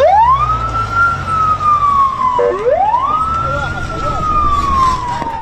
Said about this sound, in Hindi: सड़कों पर एम्बुलेंस की गाड़ियां दौड़ रही हैं